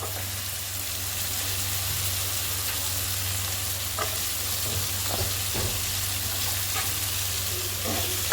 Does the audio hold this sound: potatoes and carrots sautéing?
yes